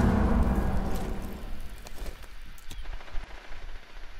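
Gunfire in a shooter video game: a heavy, rumbling opening gives way to scattered sharp shots and bursts, moderately loud with no voices over them.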